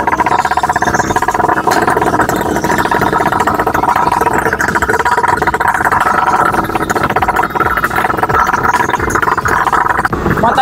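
A mini motocross bike, the MC46 with automatic transmission, runs steadily close by, its small engine giving a continuous buzzing drone with no clear pauses or revving.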